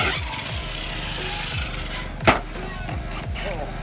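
A HPI Savage Flux XL RC car's shock absorber bottoms out with one sharp, loud knock, heard over the steady whine of the electric motor and the clatter of the car driving outdoors.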